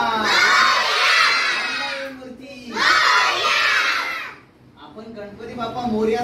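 Children shout a loud chant in unison for Ganpati Bappa, two big crowd bursts each lasting about two seconds, followed by a lower murmur of young voices rising again.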